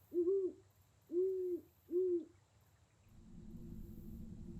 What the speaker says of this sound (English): A large owl seems to be watching you.